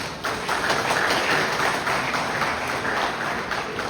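An audience at a Fanmi Lavalas political gathering in Haiti applauds itself, a dense, continuous wash of many hands clapping at moderate distance that fills the whole moment.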